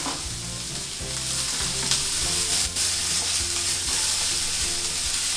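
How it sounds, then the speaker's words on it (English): Finely chopped onions fry in hot olive oil in a pan, a loud, steady sizzle with intermittent stirring scrapes and clicks close by, no voices. "You just kind of want to stir it around until the onion kind of turns into this golden brown color."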